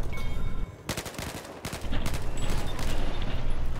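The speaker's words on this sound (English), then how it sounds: "Whoa! I'm shooting." Rapid bursts of automatic gunfire in Battlefield Hardline, loud and close, broken by a short pause before the shooting resumes in a sustained stream of shots.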